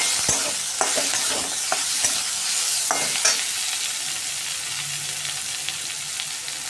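Capsicum and onion cook in oil in a pan, sizzling steadily while a spoon stirs and scrapes against the metal in several sharp, close strokes, then the frying settles to an even hiss.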